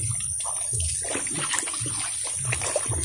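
Hot bath water splashes and sloshes in repeated bursts, close and fairly loud, with a steady high hiss throughout and a few faint voices now and then.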